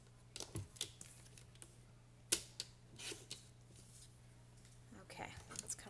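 A paper piece trimmed for a scrapbook page, with a few light snips and crisp cuts spread across the quiet stretch, separated by brief gaps, faint and close, over a low steady hum.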